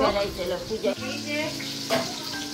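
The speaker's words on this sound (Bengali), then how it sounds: "এখন ভেন্ডি ভাজা চলছে" Okra frying in oil for a Kali Puja festival meal, a steady sizzle running under a voice talking nearby, with a couple of brief clatters.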